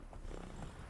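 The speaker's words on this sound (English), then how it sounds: "Good horse." Hooves of a horse trotting in The Witcher 3, soft rhythmic clip-clop footfalls at a steady pace, fairly quiet and alone for under a second.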